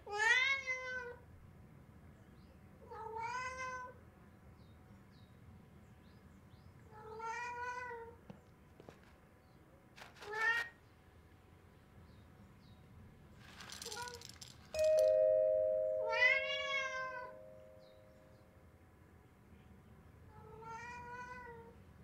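A cat meowing in the Vertigo video game, several separate drawn-out meows spaced a few seconds apart, with a brief rattle and a soft chime in between over a quiet low background hum.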